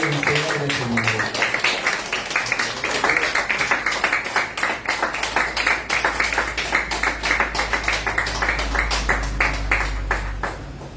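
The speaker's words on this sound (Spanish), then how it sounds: "¿Cuántos le damos una ofrenda de aplauso al Rey de Reyes y Señor de Señores?" A church congregation gives a dense round of applause, many hands clapping rapidly and continuously at a steady level, with voices mixed in beneath.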